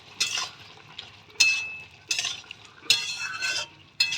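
Ground coriander and Kashmiri chili powder fry in a pan as a spoon stirs them in four or five distinct scraping bursts, with quieter gaps of soft sizzle between, heard up close.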